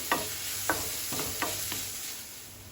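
Quiet, steady sizzling of onions frying in a pan until translucent, with a few soft scraping taps of a spoon stirring at intervals.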